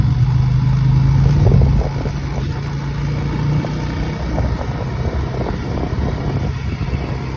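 Motorcycle riding along a muddy rural road in the rain, a close, steady engine drone with a droning tone in the first two seconds, then continued rumbling and sloshing over uneven ground.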